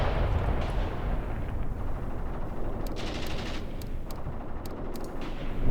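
Artillery in the tank war game Graviteam Tactics Mius fires amid a dense, continuous rumble of battle, with a few sharper cracks and bangs standing out.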